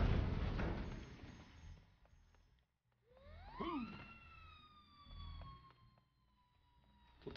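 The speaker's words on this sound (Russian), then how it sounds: "Тут там орёт как сирена" A rising and falling siren wail in the video game Disney Infinity sweeps up and holds steady, sounding moderately loud against a busy electronic background, with no one talking.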